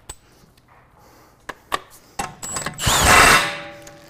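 An impact wrench works on a car's axle nut during a 2014 Chevy brake repair, with a few sharp knocks and clicks followed by a short, loud burst of rattling hammering, close up.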